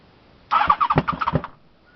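A cold VFR750 motorcycle with a freshly rebuilt engine and upper heads coughs out a quick, ragged run of loud, close popping backfires, about a second long, then drops quiet.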